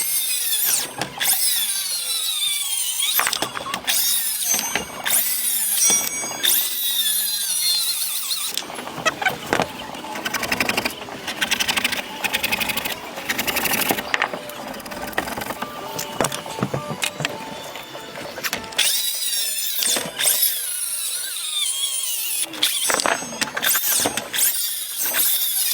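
Power tool cutting through timber ends for a roofing scarf joint, heard as repeated loud whining cuts with short pauses between them, then a long sustained cutting run before more bursts.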